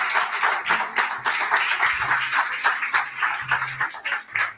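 Church congregation applauding together during a sermon, a steady mass of clapping at fairly close range.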